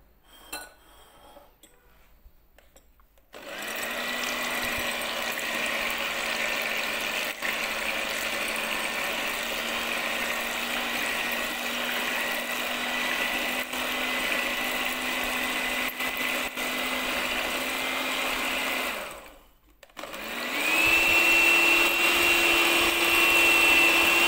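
An electric hand mixer whirs steadily as it beats sugar-free cake batter for a diabetic-friendly cake, running loud and continuous, cutting off briefly and then starting up again slightly higher.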